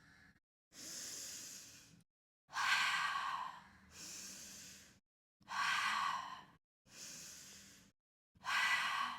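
Slow, deep breaths from a person doing a mat exercise, heard close up as six long audible breaths separated by short silences, some with a loud breathy push.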